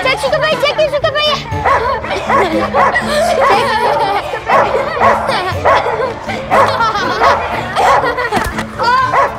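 A dog barks and yips excitedly amid a chaotic scene, with people shouting and talking loudly over it throughout.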